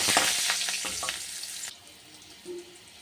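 Four green chillies hit hot oil after aubergine frying for a spicy fish curry, giving a loud, dense sizzle that drops sharply partway through and settles into a quieter crackle with a brief clink near the end.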